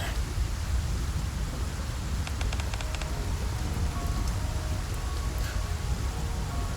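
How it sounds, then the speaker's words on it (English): Steady rain falls in the video game Goddess of Victory: Nikke, a dense hiss of downpour that runs unbroken the whole time with faint ticks of droplets and no talking. "Wasn't about to have that rain going through the whole thing"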